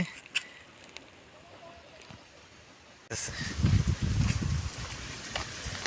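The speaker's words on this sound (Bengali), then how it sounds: "ঝর্নার পানি শব্দ" A rocky stone waterfall: quiet outdoor ambience suddenly gives way to a loud, steady broadband rush of falling water that continues to the end.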